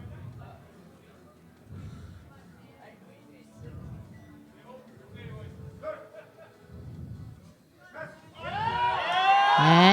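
Crowd at a powerlifting nationals meet swells into loud cheering and whooping near the end, after a stretch of announcer-style talk over low murmuring.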